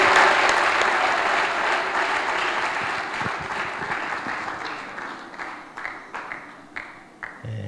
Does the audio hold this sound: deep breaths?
no